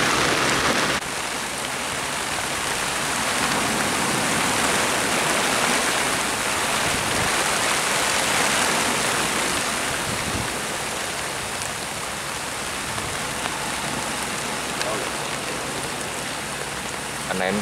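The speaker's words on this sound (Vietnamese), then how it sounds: "Mưa rất là lớn," Heavy rain pours down during a storm at sea, a loud, dense, continuous hiss of drops on surfaces and water that holds steady throughout.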